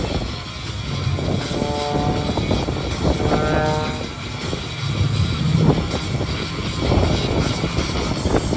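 A pink radio-controlled model jet rolls rapidly through the open sky, and its engine gives a continuous loud roar and whine that swells and fades slightly as it passes overhead.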